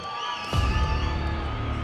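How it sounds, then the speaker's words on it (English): A boxing crowd at an SCL Boxing event erupts into cheering and whoops for fighter LT Nelson, a sudden loud roar of many voices that swells and holds steady with scattered shouts and claps. "Please give a big round of applause for his opponent, LT Nelson"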